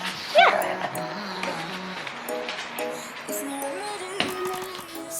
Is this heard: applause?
no